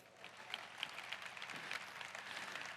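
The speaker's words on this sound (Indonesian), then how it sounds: "kita beri tepuk tangan untuk diri kita terlebih dahulu" Steady applause from an audience at a leadership training session, a dense continuous patter of many hands clapping at moderate distance, sustained without a break and fairly quiet overall.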